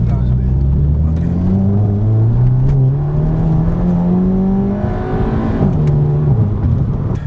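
An Aston Martin supercar drives off on an empty Mumbai street early on a Sunday morning, its engine note climbing steadily through a gear with a brief dip near the end, loud and close over constant road and wind noise.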